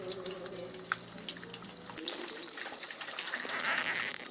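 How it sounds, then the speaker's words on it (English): Steady sizzling and crackling of eggs frying in hot bacon grease, continuous and close, with faint clinks. "Got a couple eggs cooking right here."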